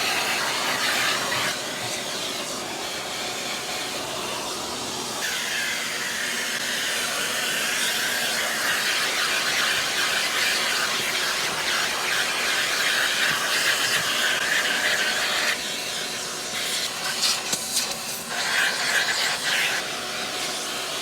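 A vacuum cleaner runs steadily close by while cleaning beneath the seats of a BMW F30, a continuous loud whooshing roar with small shifts in pitch as the nozzle moves.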